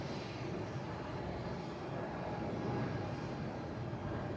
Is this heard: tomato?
no